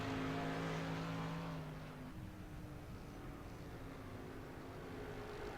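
A 360 sprint car laps Irwindale Speedway, a distant, faint engine drone whose pitch drops as it moves off around the track, steady and unaccompanied by talk.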